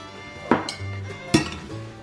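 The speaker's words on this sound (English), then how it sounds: "Now, I'm going to stir all this together." Utensil scrapes and two sharp clinks of a spoon against a bowl while black-eyed pea salsa ingredients are stirred together, close and fairly loud, with no talking.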